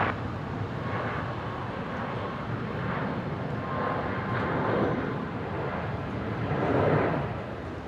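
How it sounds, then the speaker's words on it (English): A Virgin Boeing 737 Max 8 takes off from runway 19 left at Brisbane International, heard from a distance as a steady broadband jet roar that swells slightly near the end, with no talking. "The Virgin Max 8 here heading off to Port Villa from 19 left"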